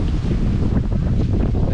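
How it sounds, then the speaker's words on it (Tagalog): Wind gusts steadily across a rocky seaside campsite at Lobo, Batangas, a dense, blustery rush buffeting the microphone for the whole short stretch. "Mahangin, humangin na din."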